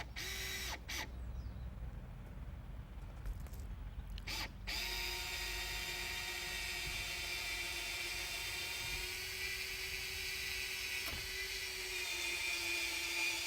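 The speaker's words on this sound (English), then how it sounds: "power drill, which makes life so much easier and less boring" A power drill bores a peg hole through timber roof rafters. A few sharp knocks come first, then a sustained, close, high-pitched whine that stays steady for several seconds as the bit cuts through the wood, with no talk.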